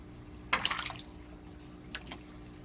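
Bluegill fish in an aquaponics tank splash at the water surface while being fed near sunset. A burst of choppy splashing is followed a moment later by a shorter second splash. No one speaks.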